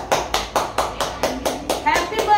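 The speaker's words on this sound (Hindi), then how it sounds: "ताली बजा।" Hands clap in a steady rhythm at a child's second birthday party, about nine sharp claps close by, with faint voices in the background.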